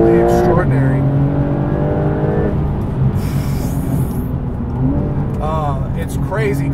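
A 2021 Porsche 911 Turbo S with 640 hp being driven hard at high speed. Its loud, close engine drone rises and falls in pitch through gear changes, with a voice faintly present under the roar.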